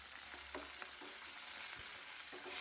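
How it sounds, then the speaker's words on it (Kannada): Green chillies and onion frying in a pan for vermicelli upma, a soft steady sizzle with faint stirring scrapes of a spoon against the pan, no talking. "ಇದನ್ನು ಈಗ ಸ್ವಲ್ಪ ನೀಟಾಗಿ ಫ್ರೈ ಮಾಡ್ಕೋಬೇಕು,"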